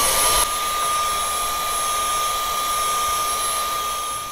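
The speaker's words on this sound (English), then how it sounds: "just use the vacuum cleaner to get as much as you can reach" A steady, loud whirring vacuum cleaner drone with a brush tool runs throughout, with a brief tonal change at the very start, cleaning GE refrigerator condenser coils.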